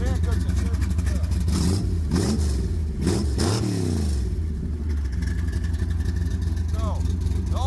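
A 1973 Plymouth Satellite's big block stroker engine runs loud and close, revving up and down in several swells over a rough, lumpy idle, with voices talking over it.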